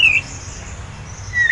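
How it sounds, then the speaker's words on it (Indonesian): An oriental magpie-robin gives a brief, clear whistled phrase at the start and again near the end, with faint rustling and a low hum filling the gap between them. "Kacer ini saya kasih nama adalah Super Sakti."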